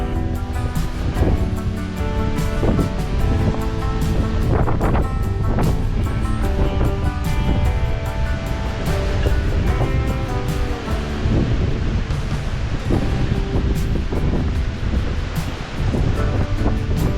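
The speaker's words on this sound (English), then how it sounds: "that rain that's coming from the plain against the wind is now dropping on my canvas" Rain dripping onto a canvas canoe cover on open water, steady wind and surf-like wash filling the background with scattered pattering drops, continuous and fairly loud throughout.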